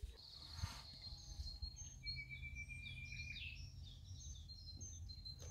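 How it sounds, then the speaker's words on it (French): Several birds chirping and singing outdoors in a garden on an early summer day, scattered high tweets and trills at a moderate distance over a low steady background hum. "Regardez ce bruit d'oiseaux, enfin les oiseaux qui chantent et tout, c'est trop beau."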